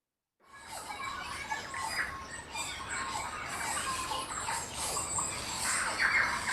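Daytime chorus on a predator-free island, with tui and bellbirds calling: dense overlapping chirps, warbles and squawks from several birds at middle distance. The sound fades in and then holds steady, with no talking.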